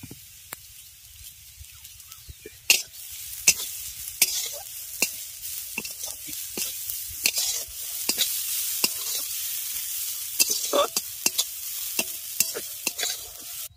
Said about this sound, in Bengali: নারকেলটাকে আমি ঘিয়ে ভালো করে একটু ভেজে নেব।